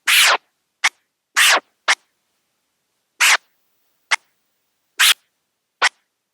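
A series of short, sharp DJ chirp scratches on a turntable, alternating longer and shorter bursts in an uneven rhythm, clear and close with silence between.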